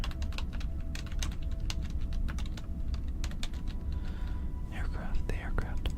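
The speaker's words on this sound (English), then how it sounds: "I was busy unplugging my keyboard so I could type on it." Fingers type on a computer keyboard in rapid, irregular bursts of crisp close clicks, with soft whispering running underneath throughout.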